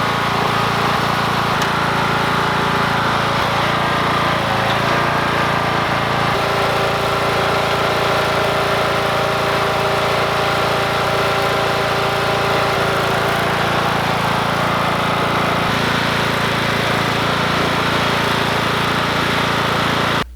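Lawn mower engine running steadily and loudly for the whole stretch, a constant close mid-pitched drone with a buzzing hum and no pauses or talk.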